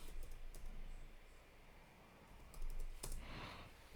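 Sparse, light keystrokes on a computer keyboard while typing a search, scattered clicks with gaps between them against a quiet background, then a short cluster near the end.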